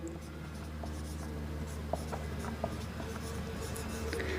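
Writing with light, continuous scratching and rubbing strokes during a Hindi-language English grammar lesson. The strokes are faint and close, with a few small taps, and no talk is heard.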